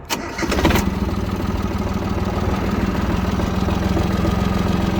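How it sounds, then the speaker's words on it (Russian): A cold 22 hp Yanmar F-220 Japanese mini tractor with a three-cylinder diesel cranks briefly, then catches and settles into a loud, steady, rattling run, close by with no talking. "Напомню, у нас здесь дизельный, естественно, 3-цилиндровый мотор."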